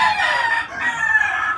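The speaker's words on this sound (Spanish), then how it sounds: "Este es un gallo cowan arriba de dos gallinas cowan para sacar cowan puros." A Cowan rooster penned with two Cowan hens gives a sustained, loud crow at close range that holds steady throughout.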